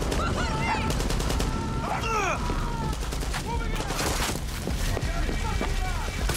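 Rapid bursts of automatic gunfire rattle through a Far Cry 6 firefight, loud and continuous, mixed with whooshing effects and distant shots, while a voice talks over the action.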